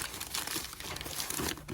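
Packing paper is crumpled by hand around hair dye boxes being packed into a parcel for shipping, a continuous close, loud crinkling and rustling that runs the whole time without talk.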